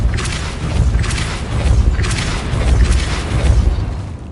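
Depulso spell casts from the video game Hogwarts Legacy thump out as a series of about four heavy booms, each a sharp whooshing burst sitting on a constant deep rumble, loud and close with nobody talking.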